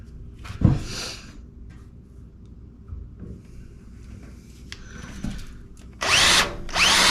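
A few clunks and knocks, then a power drill whirs loudly near the end in a short burst, close by, drilling holes for Jeep Gladiator bed rack accessories.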